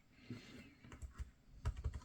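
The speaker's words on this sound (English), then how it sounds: "So let's just try some typing." Keys on a ThinkPad laptop keyboard are pressed in short irregular bursts of soft clicks and taps, close and quiet, with no talking.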